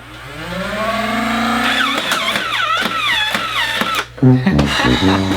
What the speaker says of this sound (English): So we're gonna rev it up.